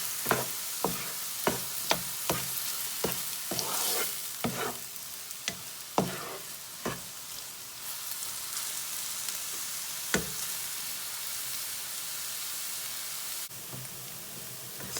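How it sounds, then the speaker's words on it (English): Onion frying in a pan for a lamb curry, a steady broadband sizzle with repeated sharp clicks and scrapes of stirring in the first half, then a smoother continuous hiss, close and fairly loud with no voices. "I'll fry the onion nearly 4 minutes until it is lightly brown."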